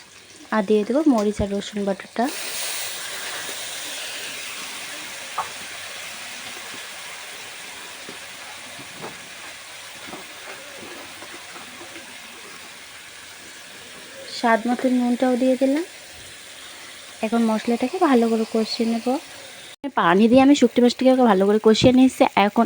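Dried fish sautéing in a pan with turmeric and chili powder, a steady close sizzle running throughout, with someone talking over it at the start and again near the end.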